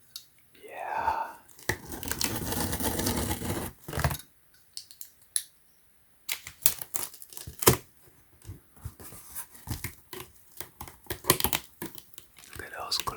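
A knife slicing through the cardboard and tape of a Nike Air Jordan 4 Fire Red GS shoe box, with close crinkling, scraping and tearing in bursts separated by short pauses, and soft whispering now and then.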